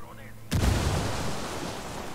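A grenade blast in the tactical shooter Ghost Recon Wildlands bursts suddenly after a quiet lead-in, a loud deep boom that rolls into a long, noisy rumbling tail.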